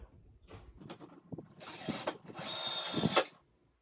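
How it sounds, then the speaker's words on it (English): A power drill driving cabinet screws while assembling an IKEA Besta unit, heard as two close, buzzing whirring bursts, the second longer and steadier, after some quiet handling clicks. "Go ahead and drive our cabinet screws over on this side."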